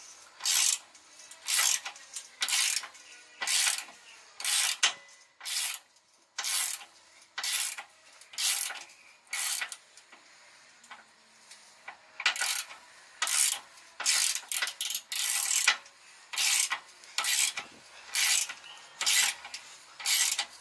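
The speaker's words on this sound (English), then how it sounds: "So with the wrench bracing itself, you can simply turn from the bottom." A ratchet wrench clicks in a regular series of short bursts, one to two seconds apart, while turning the torsion bar adjustment bolt on a Nissan Frontier, close and crisp with no talking.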